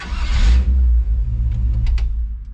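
A 1961 Chevy wagon's engine restarts with a quick cranking burst and then settles into a low, steady idle rumble up close, followed by a few faint clicks.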